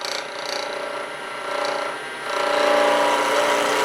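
A wood lathe spins a pen blank while a gouge roughs it down, giving a continuous bright scraping hiss that swells and eases as the tool rides the bevel across the rest, loud and close with no talk.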